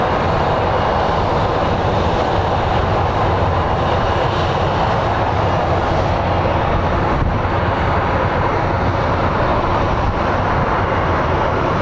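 Embraer E175 regional jet on Envoy service at Phoenix Sky Harbor airport, a loud continuous engine roar that holds steady and close throughout with no talking.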